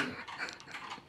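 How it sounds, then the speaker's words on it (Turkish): A dog whimpers and pants close by, a rapid, breathy string of soft whines lasting about a second at low volume, with no talk. "O köpek yine."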